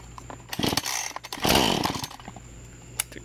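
A Husqvarna 435 chainsaw starts from cold and revs loudly in a few rising bursts near the microphone, then drops back to a lower idle with a final short blip.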